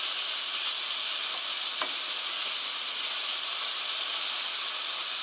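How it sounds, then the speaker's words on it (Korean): Meat is gently stir-fried in a pan for japchae, giving a loud, continuous hissing sizzle with one faint scrape partway through. "고기가 하얗게 될 때까지 볶아주세요."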